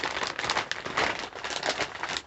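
A plastic bag holding damp willow for craft work crinkles continuously and fairly loudly up close as a length of willow is pulled out.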